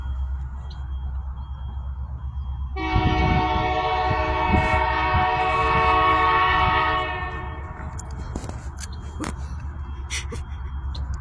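A passing train sounds a long, loud horn blast lasting several seconds over the steady rumble of rail cars, then the horn stops and the train noise continues with faint clicks.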